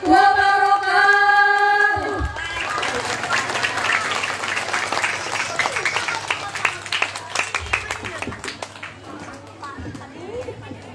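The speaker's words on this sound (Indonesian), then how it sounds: "sekali lagi tepuk tangan yang meriah untuk santri putri" An audience of santri gives a lively round of hand clapping, rising from scattered claps into a dense burst and then thinning into sharp separate claps, after a sustained tone and with voices mixed in.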